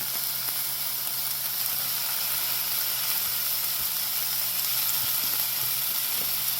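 Meat sizzles steadily in a pan with onions for curry, a constant close frying hiss that runs unbroken throughout with only faint scraping ticks beneath.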